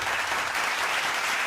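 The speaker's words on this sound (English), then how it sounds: "Can you kindly clap?" Crowd clapping at a university graduation ceremony during a gift presentation, a dense, even wash of applause throughout the short moment.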